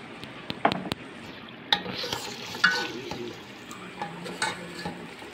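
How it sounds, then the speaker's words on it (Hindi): A spoon scrapes and stirs mutton paya curry with added yogurt in a pot, gentle sizzling beneath repeated clanks of metal against the pot in an irregular rhythm, close and clear. "दही डाल के अच्छी तरह से भून के"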